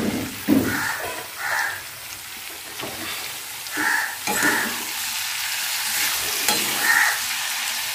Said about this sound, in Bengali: এখন সেদ্ধ করা বাঁধাকপিটা এখন আমি এর মধ্যে দিয়ে দেব।